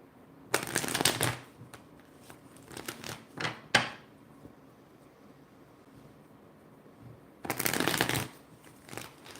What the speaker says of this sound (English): Oh, look at all that shuffling,